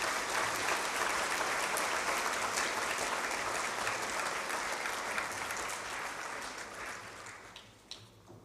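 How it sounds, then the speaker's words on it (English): Audience at a school awards ceremony applauds Year 7 award recipients with a long, even wash of clapping from many hands that gradually softens and tapers off over several seconds. "Can we please congratulate and applause our Year 7 recipients?"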